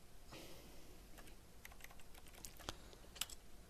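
Computer keyboard typing in the game The Stanley Parable, a steady patter of quick key clicks with a few louder, sharper strokes near the end, close and clear.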